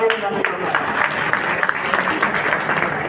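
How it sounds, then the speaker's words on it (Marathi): Audience applause at a youth job-training fair held at a government industrial training institute in Chandrapur, a steady crowd clapping that carries through the whole moment at moderate loudness, with some voices mixed in. "जोरदार टाळ्या वाजवा"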